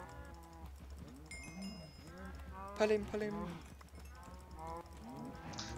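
Cows moo in Minecraft, several low, drawn-out calls in a row with hoof-like clip-clops and a brief chime, while people talk over them.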